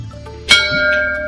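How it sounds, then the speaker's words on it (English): A school bell rings once for lunch, a sharp metallic strike that rises out of quiet and leaves a long sustained ringing tone that slowly fades. "The bell, and time for some lunch."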